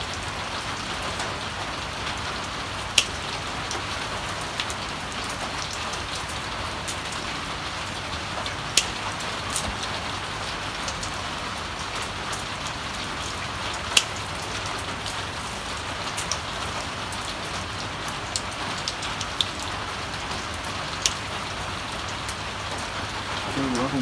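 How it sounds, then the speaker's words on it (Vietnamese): Heavy rain blows in and drums on surfaces in a dense, steady hiss, with occasional sharper drips and taps standing out, no voices over it. "ngoài đang rất mưa hắt vào đây này"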